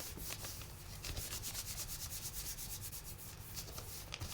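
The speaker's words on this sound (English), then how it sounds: "Put this down, rub it in, rub it in, rub it in." Paper laid on an 8x10 Gelli plate print is rubbed down by hand, making a quiet, rapid, rhythmic brushing scrape with no talk.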